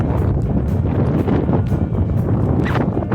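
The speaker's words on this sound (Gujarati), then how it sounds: "પવન ફૂંકે એટલે અવાજ નહીં આવે" Gusty wind in a farm field buffets the microphone in a continuous rumbling roar, rising and falling without pause.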